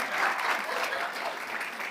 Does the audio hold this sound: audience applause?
yes